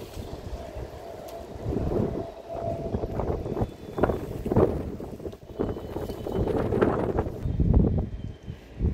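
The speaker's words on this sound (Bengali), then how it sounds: "সুন্দর হাওয়া, ভালো লাগছে হাওয়ার মধ্যে," Wind blows outdoors on a sunny evening, buffeting the microphone in uneven gusts that swell and fade, with low rumbling bursts and no talk.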